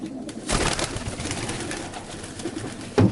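Low, throaty coos come from a Janssen racing pigeon in a loft, several soft rolling calls in a row with a louder rustle near the end and no talking.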